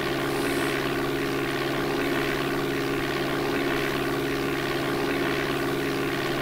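Steady droning propeller engine of a light aircraft in the DOS flight simulator Flight Simulator 4, a constant synthetic hum with buzzing harmonics running unbroken throughout, no voices.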